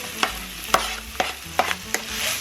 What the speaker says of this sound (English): Onions going in. Mushrooms going in.